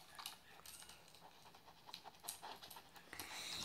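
A dog panting close to the microphone in an ASMR recording, quick repeated breathy huffs in an uneven rhythm, soft and intimate, with faint scratching and no talk.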